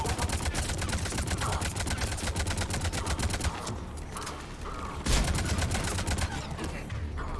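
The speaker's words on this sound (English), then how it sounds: "we're gonna have to stick to the assault rifle now." Sustained rapid bursts of assault rifle fire in the Mass Effect 3 video game, a dense rattling stream of shots that breaks briefly and then resumes loud and close.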